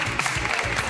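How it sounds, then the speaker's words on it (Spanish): A brief burst of dense clapping from a studio audience, loud and continuous over the whole moment. "Un aplauso para ambos."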